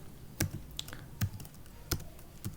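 Python code is typed on a computer keyboard, giving a few sparse, distinct key clicks spaced unevenly over a couple of seconds, close and fairly quiet.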